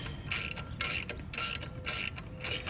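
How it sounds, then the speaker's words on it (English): A wrench tightens a bolt on a Harley 883 front fender, with quiet, regular ratcheting bursts repeating about every half second at close range. "This one's almost tightened all the way down."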